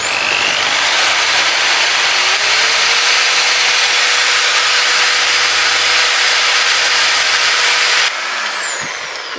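A hole is bored into a clay tagine with a loud, steady, close whine of grinding that holds for about eight seconds before stopping abruptly and leaving a fainter hiss.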